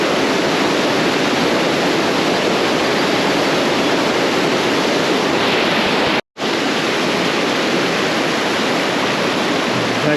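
A waterfall on a creek roars in a dense, steady rush of water, loud and close and continuous, broken only by a brief cut of silence.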